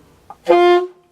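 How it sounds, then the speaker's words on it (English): An alto saxophone sounds one sustained high D, with the octave key pressed, for about half a second after a soft click of the keys. "pressing your octave key and playing high D"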